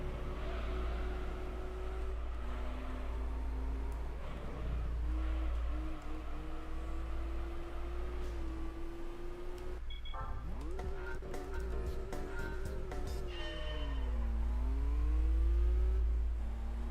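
Car engine in Gran Turismo 3 revving hard toward 8,000 RPM in second gear, a strained whine rising steadily, then dipping through shifts and climbing again, loud and constant with a low rumble beneath.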